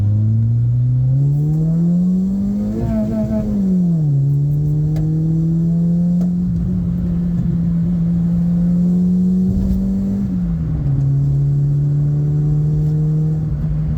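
A Peugeot 106 1.1 small petrol car engine revs loudly and steadily while driven, pitch climbing, dipping with gear changes and holding, a continuous close drone with no talk.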